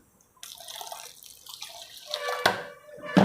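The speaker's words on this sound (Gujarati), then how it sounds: "પહેલાં થોડું પાણી નાખી લેવાનું" Water splashes and trickles in short pours close by into wheat flour for dough, with a couple of sharper wet slaps near the end; no voices.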